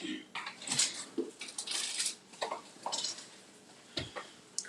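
An aluminum foil tray handled in a home kitchen during a live cooking demonstration, giving a run of close crinkling, tapping and scraping rustles with short pauses between bursts.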